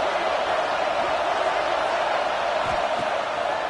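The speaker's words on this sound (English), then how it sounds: "This crowd bringing the energy and noise early." A stadium crowd in the College Football 26 video game gives off a dense, steady roar at a bowl game, a constant broadband wash of noise with no distinct voices standing out.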